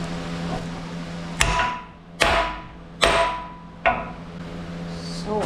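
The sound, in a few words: hammering a bronze bushing in through an aluminum block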